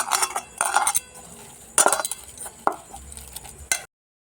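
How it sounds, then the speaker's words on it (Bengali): Two boiled potatoes mashed by hand in a bowl while making puffed-rice cutlets, giving close, uneven bursts of utensil clinks and scraping against the dish with short pauses between them, no talking. "এখানে দুটো আলু সিদ্ধ নিয়ে নিয়েছি। আলুটা আমি ম্যাশ করে নিচ্ছি একটু।"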